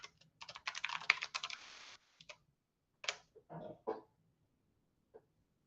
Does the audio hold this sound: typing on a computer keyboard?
yes